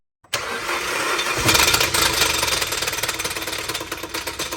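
A car engine cranks and catches, then runs rough and loud with a harsh grinding, rattling clatter and an uneven pulsing idle, close by and with no talking.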